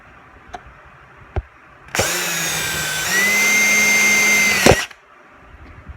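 A power tool drives a screw into a Minn Kota trolling motor lower unit: one close whirring burst of about three seconds that shifts pitch midway as the screw bites, then stops, with faint clicks before and after.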